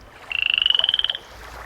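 A frog croaks in a rapid, evenly pulsed rattling trill lasting about a second, loud and close against near silence.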